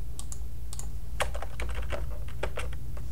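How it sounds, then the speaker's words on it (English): Arrow keys on a computer keyboard get tapped in quick irregular bursts of crisp clicks while an image is nudged in MS Word, close and distinct over a low hum, with no talking. "we can use the arrow keys on our keyboard to highlight and then move this"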